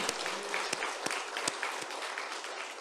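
A church congregation breaks into loud, sustained applause in praise of the risen Lord, dense clapping filling the room with a few sharper individual claps standing out.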